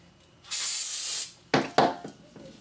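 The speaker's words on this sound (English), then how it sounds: "Spray some brake clean on a rag" Aerosol brake cleaner sprays onto a rag during a 1994-97 Honda Accord valve cover gasket job: one sustained hiss of about a second, then two short sharp bursts close by.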